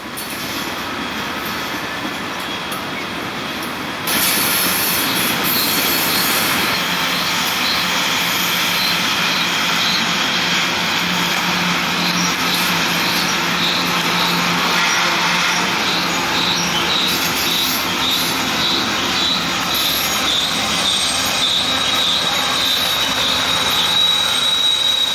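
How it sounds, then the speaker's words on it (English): A mixed freight train descends Horseshoe Curve with its dynamic brakes whining, a loud, continuous roar of locomotive engines and rolling wagons with high wheel squeal, close and steady with no talk. "Mixed Freight Train 36A is descending the hill with its dynamic brakes and full throttle."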